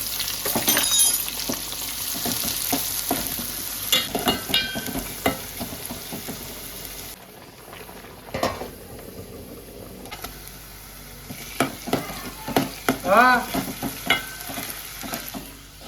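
Onion frying in hot oil, a dense crackling sizzle with scraping stirs and utensil knocks, loud at first, dipping briefly midway, then returning with irregular stirring clatter.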